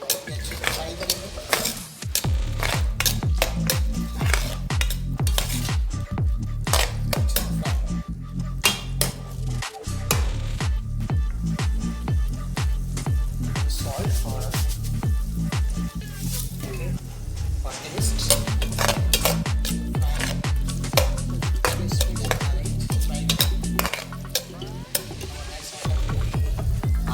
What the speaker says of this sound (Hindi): We want to fry aloo matar.